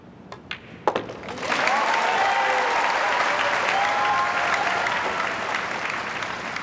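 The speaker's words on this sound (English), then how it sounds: "Safe to say you're going to hear a little applause after this 9." Spectators at the 2004 World Pool Championship final applaud after a 9-ball is pocketed; a couple of sharp ball clicks come first, then sustained, full crowd clapping swells and continues, with some faint whistles.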